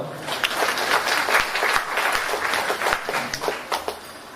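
Audience applause at an international poetry festival held in Pimpri, a dense, steady patter of many hands clapping close by, swelling and easing in waves across the whole stretch without a break.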